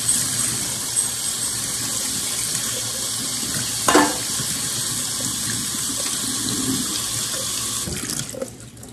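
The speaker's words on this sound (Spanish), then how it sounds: "Vamos a lavar las alberjas." Steady running water from a kitchen tap fills a sink as peas are rinsed, a continuous broad hiss with a brief splash or clatter near the middle and a shift in the flow toward the end, no talking.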